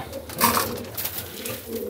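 Racing pigeons coo in a loft as they wait to be fed, making soft throaty calls close by, with no voices.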